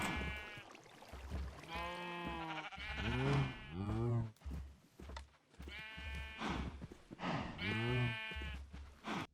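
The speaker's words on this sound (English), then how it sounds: "the sound effect was made by someone who's never heard a cow before" Cows mooing in the video game Minecraft, a series of loud, wavering, bleat-like moos repeating in quick succession, close and alone.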